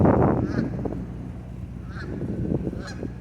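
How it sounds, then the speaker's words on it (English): Several geese honk repeatedly, nasal calls coming in short bursts over a low rumbling background. "Don't mind the geese."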